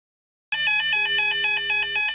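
A thrift-store vintage telephone rings through an Xlink BT2 adapter, its bell trilling rapidly and steadily for about a second and a half after a silent start, loud and close with no talk.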